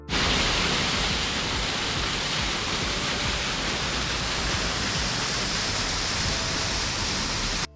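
A small roadside waterfall near Bhowali rushes in a loud, steady, broadband roar that fills the whole clip without pause, with no voices.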